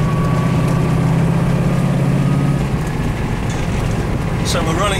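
A 1967 Ford Mustang GT500 'Eleanor', right-hand drive with a six-speed gearbox, driving through London streets: a steady low engine drone inside the car, fading slightly partway through, with a brief higher noise near the end.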